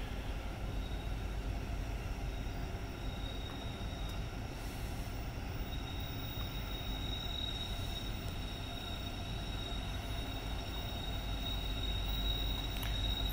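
Norfolk Southern freight train NS 238, led by an SD70ACe locomotive, arriving at Greenville station on track two for a crew change; steady loud rumble of railcars rolling past nearby with faint wheel squeal, no talking.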